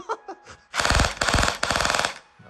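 A CYMA Glock 18C electric airsoft pistol fires BBs in fast full-auto bursts: three loud, rattling strings of shots separated by brief pauses, close to the mic, with faint voice sounds at the start.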